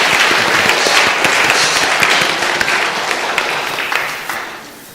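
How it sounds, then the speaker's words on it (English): Applause from a church congregation fills the space, a dense, steady round of clapping that stays loud throughout and eases slightly toward the end. "Could we please have a tired, footsore and weary round of applause for our hydrogen atoms"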